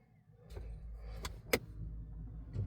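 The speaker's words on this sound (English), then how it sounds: "And you could hear the parking brake work." Electronic parking brake motor on a Ford cycling, a low mechanical whir under steady idling hum, punctuated by several sharp clicks and a clunk near the end.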